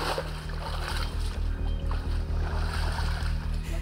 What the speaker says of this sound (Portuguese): No caminho, um rio dificulta a nossa passagem.